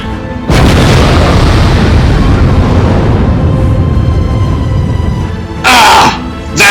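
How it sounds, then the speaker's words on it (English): A walrus fires a blast from his bicuspid cannon in a comic dub of a Rocket Raccoon story: a loud booming burst erupts after a brief pause and rumbles on for several seconds, ending in a couple of sharp noisy bursts. "Well-stolen walrus lets loose with a blast from his bicuspid cannon."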